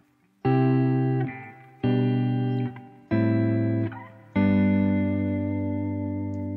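Four sustained descending slash chords strummed on guitar one after another, each ringing out with processed, effected tone, the last held longest and fading slowly.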